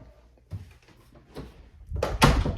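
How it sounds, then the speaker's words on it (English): A room door being shut at home, a few soft bumps and shuffles building to a firm closing thud near the end, close and fairly quiet. "I'm gonna shut my door here."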